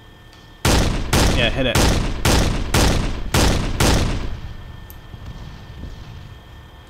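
Video game Arma 3 combat, an AMV-7 Marshall firing its 40mm cannon at a building: seven loud, evenly spaced heavy booming shots with a fading rumble afterward, while a voice speaks briefly over the fire.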